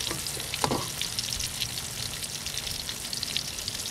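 Cod fillets frying in a pan, a steady, close crackling sizzle with dense spattering throughout and a brief clatter near the start, no voices.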